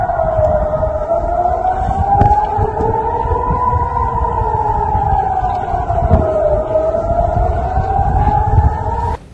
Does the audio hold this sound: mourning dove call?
no